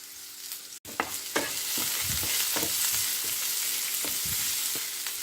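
Onion, garlic and ginger sautéing in a pan for a Tamil vadai curry, a steady close sizzle with scattered stirring scrapes and clicks throughout.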